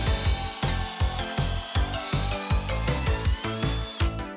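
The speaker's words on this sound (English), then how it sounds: "We then drill a hole the same size as the carriage bolts all the way through" A power drill bores a carriage-bolt hole all the way through wood for a picnic table leg, with a loud continuous whine and a rhythmic chugging pulse from the bit biting into the timber.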